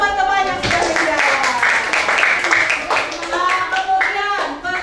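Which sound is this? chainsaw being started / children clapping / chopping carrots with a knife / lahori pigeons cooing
children clapping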